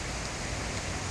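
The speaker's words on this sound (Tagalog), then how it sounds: "naririnig nyo na naman, lumalakas na naman yung ulan" Heavy rain pours in a dense, unbroken hiss, loud and close, with no voices over it.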